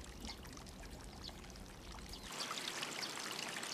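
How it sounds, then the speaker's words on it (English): Water runs and pours steadily from a channel in a Satoyama village where dishes are washed in the traditional riverside way, a soft continuous trickle that grows brighter and splashier partway through, with no voices. "They do the washing up in Satoyama villages."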